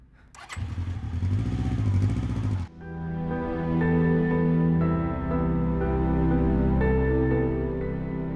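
A motorcycle engine roars loudly close by, then settles into a steady droning run as the bike carries on past, with no voices over it.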